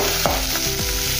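Finely chopped onion and green chilies frying in hot oil, with a loud, close, continuous sizzle broken by a few quick stirring scrapes.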